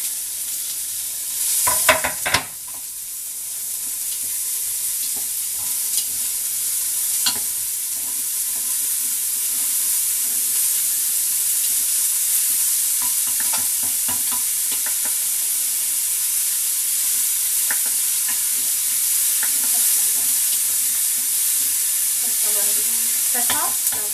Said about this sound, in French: Donc je mets mes oignons et je vais les faire un peu revenir légèrement